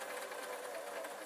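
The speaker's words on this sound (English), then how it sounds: "now as I've got this stitch on my sewing machine, and this is a very basic model, it's a modern sewing machine" A basic modern sewing machine stitches fabric for lacy gloves, giving a quiet, rapid, even whirring hum that lasts about a second with no pauses.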